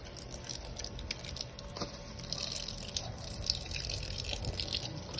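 A 12-volt water pump delivering about 6 liters per minute sends a continuous gush of water splashing and hissing, steady and moderately close, with no talking over it.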